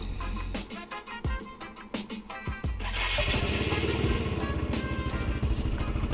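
A Royal Alloy 350 scooter engine with an aftermarket exhaust starts after a few sharp knocks and settles into a steady, close idle with a rapid, throaty exhaust putter.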